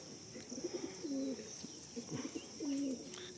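A pigeon at a loft of Madrasi and Giribaj breeds gives several close, soft, throaty coos in short repeated phrases, heard alone with no speech.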